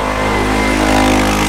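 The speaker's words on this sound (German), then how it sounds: "Die lokalen Leute fetzen da immer mit diesen Tuk-Tuk da, die man sieht im Hintergrund." A small tuk-tuk engine revs hard and close by in first gear on a street in Guatemala, a loud, buzzing, steady roar with a rising whine at full throttle.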